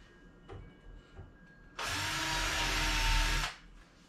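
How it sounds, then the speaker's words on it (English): After a few light knocks, a power drill whirs steadily at full speed for under two seconds, close and loud, drilling a starter hole for a handle on a white-lacquered entertainment center, then winds down. "Now, just take my drill, and again, I'm just going to drill a starter hole."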